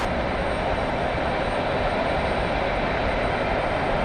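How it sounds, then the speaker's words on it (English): An Emirates A380 taxiing toward its gate at JFK airport, heard as a steady, loud, broadband engine roar that holds constant throughout, with no talk over it. "Looks like we will have the Emirates A380 park at gate"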